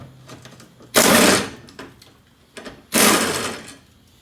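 Two short, loud bursts of a power driver whir against rusted fuel pump access screws on a Saturn Ion fuel tank, separated by quieter handling clicks.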